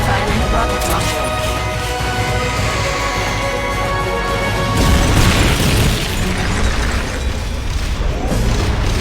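Rocket launcher fire in Metal Gear Solid Peace Walker, with a loud continuous roar and booming rumble that surges midway, joined by bursts and crackle, with speech-like voices mixed in.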